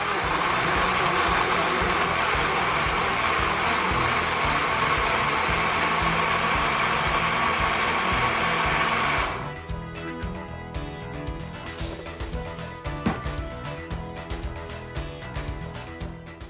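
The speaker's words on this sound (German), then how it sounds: "Sämtliche Tomaten mixe ich immer mit diesem Smoothie Maker." A smoothie maker blending tomatoes and garlic cloves in an outdoor kitchen, running as a loud, steady motor whir for about nine seconds before cutting off abruptly, leaving quieter background noise with faint clicks.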